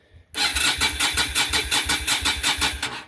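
A 10-year-unused old Yamaha motorcycle engine cranking over after sitting, a loud close rhythmic churning of the starter with steady pulses that never catches, after a brief quiet start.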